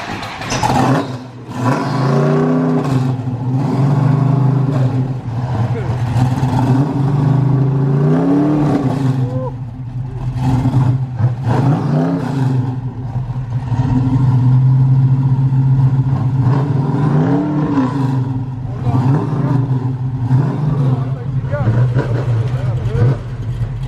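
A car with a 392 engine and a race carburetor revs and accelerates loudly, the engine note rising and falling in repeated pulls, with people talking over it throughout.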